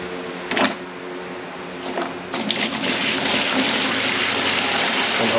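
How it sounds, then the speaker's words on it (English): Water pours into a parts-cleaning tub for the bottom case of a 1976 Yamaha XS650. A couple of brief splashes are followed by a steady, continuous gush filling the tub nearby. "All I need to do is just add water."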